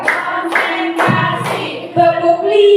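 A group in an Indonesian positive-school-culture session plays a counted clapping game, chanting in unison with claps landing about every half second, the voices loud and near throughout.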